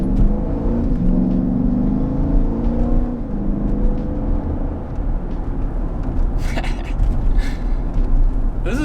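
A Jeep Grand Cherokee SRT on a test drive gives off a steady, droning engine and road rumble heard from inside the cabin, rising slightly in pitch, with faint higher chirps near the end.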